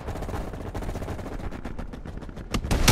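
Rapid automatic gunfire in the video game Call of Duty: Black Ops Cold War, a dense run of sharp close shots that rattles on for a few seconds, with heavier, louder bursts at the end.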